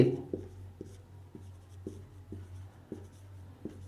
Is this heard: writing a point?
yes